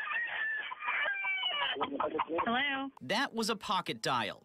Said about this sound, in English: In the background, chickens and a rooster.